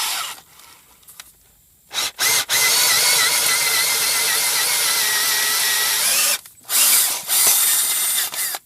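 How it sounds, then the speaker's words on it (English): A power drill with a 27/64 bit whirs loudly in a sustained run after a couple of short starts, boring out a BMW M52tu/M54 engine block thread, stopping briefly then spinning up again in quick bursts. "we're going to take the drill with a 27/64 bit, and we're going to drill it out"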